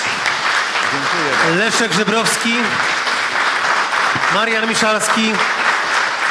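Audience applause at a book premiere, steady and dense throughout, with a voice speaking over it.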